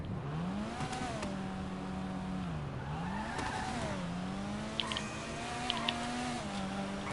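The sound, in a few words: car engine revving while double clutching, video game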